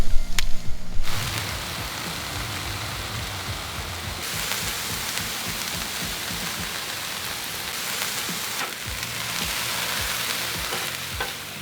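Vegetables fry across a crowded Blackstone griddle with a loud, rain-like sizzle and spattering that carries on throughout, rising brighter about midway and staying close, with no voices.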